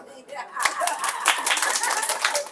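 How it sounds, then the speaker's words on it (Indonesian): Women at a neighbourhood religious study gathering in Marelan clap their hands, with scattered, uneven claps starting after a short pause, mixed with laughter and chatter. "Tepuk tangan dulu."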